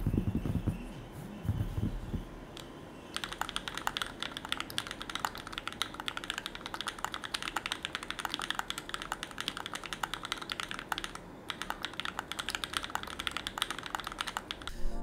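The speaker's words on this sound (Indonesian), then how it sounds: "gue pakai DCS Sleeper dari Drop biar suaranya lebih klek lagi, karena Durock Pom udah klek" Steady, fast typing on a mechanical keyboard fitted with Durock POM switches and DCS Sleeper keycaps from Drop, crisp clacky keystrokes in a continuous close run after a brief quieter opening.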